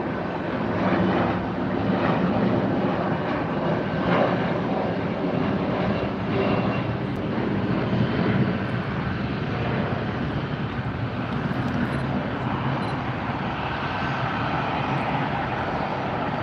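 Airplane passing above low clouds near LAX, a distant steady jet engine roar that fills the whole clip, broad and muffled with some wind noise and no talking.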